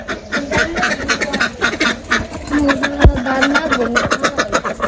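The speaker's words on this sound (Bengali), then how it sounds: "এই পাশে হাঁস এসে পড়ছে" Several ducks quack repeatedly close by in a busy, overlapping chorus, with a brief sharp knock partway through.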